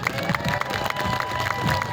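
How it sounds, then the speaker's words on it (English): Outdoor street-show crowd in Arrowtown cheering and clapping after a performance, a lively, fairly close burst of applause and shouts with some voices mixed in. "would you mind please keep the applause going for Mim?"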